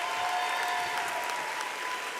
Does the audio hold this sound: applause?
yes